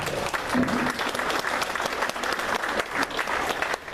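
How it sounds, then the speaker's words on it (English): Enthusiastic applause fills a room at a local patriots group meeting featuring a motorist association speaker, dense continuous clapping from a crowd, close and loud for about four seconds with scattered voices inside it. "Let's give them a big round of applause"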